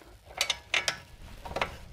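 A caliper bolt is tightened on a BMW E36 M3 brake, with a few short metallic ratchet clicks in small close pairs, separated by brief pauses, quiet and without speech.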